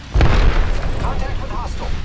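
A grenade blast in the battle-royale shooter Apex Legends: one loud, close boom with a heavy low-end punch, then a rumbling tail under ongoing game noise and a voice talking.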